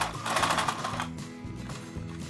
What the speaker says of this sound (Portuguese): Agora eu vou fazer só uma costurinha de segurança para segurar mesmo essa alça